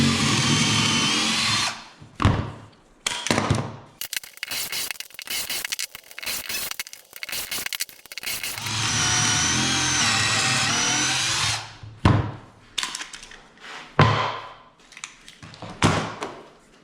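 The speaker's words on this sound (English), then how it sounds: "I'm just going to use pocket screws, and I'm using the Craig system to drill out the holes." A power drill whirs close by in repeated bursts, some long and some short, with brief pauses between each hole, drilling pocket screw holes with a Kreg jig for garage shelves.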